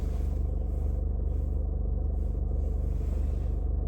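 Heard from inside a moving car, the engine gives a steady, low, pulsing rumble that holds constant throughout with no talking.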